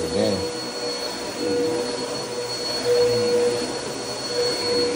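A professional carpet cleaner's vacuum runs steadily on carpet during a spot-retouching job, a loud continuous whine and roar that swells slightly as the wand moves, with no talking.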